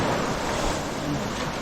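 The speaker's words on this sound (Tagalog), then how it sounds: "yung dagat, napakalaki yung dagat" Roaring sea waves rush without a break, loud and broadband, mixed with heavy wind buffeting a handheld camera close by.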